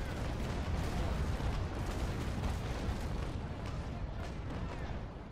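A dense barrage of booming cannon blasts from a ship broadside in a naval video game rolls together into a continuous, rumbling roar, like heavy artillery firing in rapid succession.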